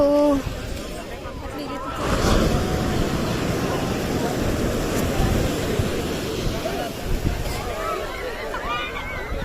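Rough sea at Somnath on the Gujarat coast surges and crashes in a continuous loud roar of surf mixed with buffeting wind, while people talk and call out nearby.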